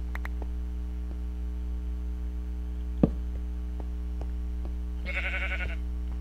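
A single sheep in the video game Minecraft bleats once near the end, a short wavering cry over a steady electrical hum with a few soft clicks and a sharp tap midway.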